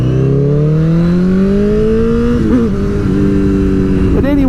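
A motorcycle accelerates hard along a twisty park road, its engine note climbing steadily through a gear, then dipping briefly at a shift and rising again, loud and close.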